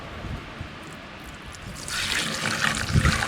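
Gasoline poured off a stainless container for a Minneapolis Moline tractor splashes through a filter, starting as a faint trickle and then turning into a louder, fuller rushing pour.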